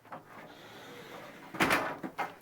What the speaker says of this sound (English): you can also close the door on this side to give you some additional privacy